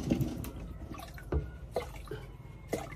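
Water is poured into a cooking pot on a home stove for noodles, giving soft, close splashes and drips in scattered bursts against a quiet room.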